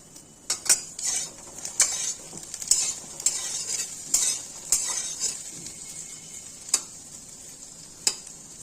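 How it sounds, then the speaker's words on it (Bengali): Pointed gourds (potol) fry in oil in a pan with a steady, close sizzle, punctuated by a dozen or so sharp spatula clicks against the metal as they are turned. "এখন এই সাইডটা একটু লাল লাল করে ভেজে নেব"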